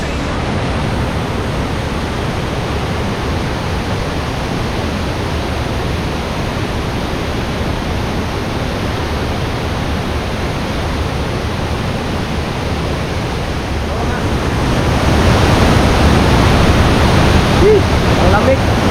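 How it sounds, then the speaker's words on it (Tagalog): Tagbibinta Falls in Davao de Oro, a waterfall whose rushing water roars as a steady, loud, broadband wash, swelling a little louder near the end. "napakaganda ng falls"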